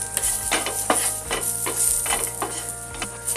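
Garlic, ginger and grated coconut masala roasting in a pan over a medium gas flame, a steady close sizzle with repeated scraping stir strokes about every half second.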